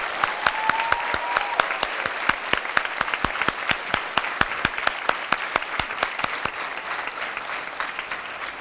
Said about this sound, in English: Please join me one more time in applauding our National Merit finalists on their outstanding achievement